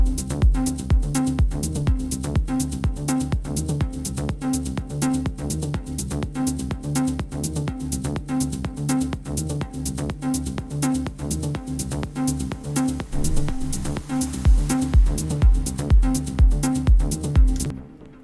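An electronic dance track builds up with a filter sweep and reverb send, driven by steady, punchy repeated kicks under a sustained synth layer, with the beat hitting harder near the end.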